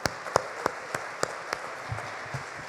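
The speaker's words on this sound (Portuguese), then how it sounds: "Aplauda, Senhor, pela vida do seu pastor." Church congregation clapping for their pastor in a sparse, evenly spaced run of single claps, faint and alone with no talk over it.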